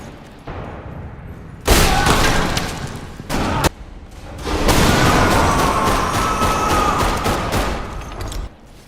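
Video game gunfire from rifles, pistols and shotguns: loud overlapping volleys and sustained rattling bursts with sharp booms, continuous across the stretch with brief lulls between heavy exchanges.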